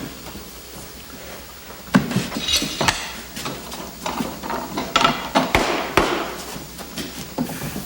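A rubber hammer tapping wooden furniture joints, sharp irregular knocks scattered through a woodworking shop, some louder and closer, with light clinking in between.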